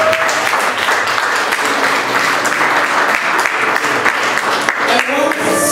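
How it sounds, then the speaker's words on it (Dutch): Applause fills a room during an office or building tour, a dense, steady wash of many hands clapping at full strength for several seconds, with a voice faintly audible at the end. "Geef applaus voor u."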